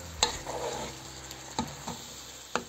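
Capsicum fries in a pan with a quiet, continuous sizzle, broken by a few scraping stirs and occasional sharp clinks of the utensil, with no voices.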